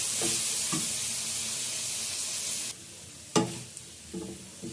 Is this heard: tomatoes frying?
yes